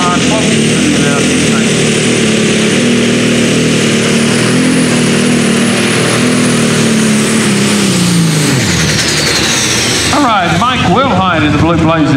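Pulling tractor from Cox's Creek, Kentucky, roars loud and steady at a tractor pull, its engine drone holding before dropping away near the end as a voice talks over the noise.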